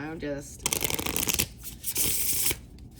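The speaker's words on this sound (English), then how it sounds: "I'm giving another good shuffle." Oracle cards shuffled by hand in a witchy oracle reading, a close, steady riffling and slapping of card stock in bursts, with a voice briefly heard at the start.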